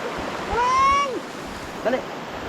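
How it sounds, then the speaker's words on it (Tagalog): A clearing river flows steadily in a rural Philippine setting, a broad continuous rush of water with a bird call and a brief voice rising above it. "Maganda na po ang ating ilog oh. Malinaw-linaw na po."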